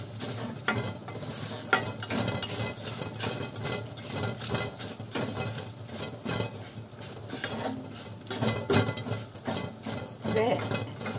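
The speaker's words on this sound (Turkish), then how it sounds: "Şimdi pirincimi ilave ediyorum." Rice poured into a pot of toasted orzo and stirred with a spoon: a steady run of scraping, rattling grains and utensil knocks against the pot, close and moderately loud, with no voices.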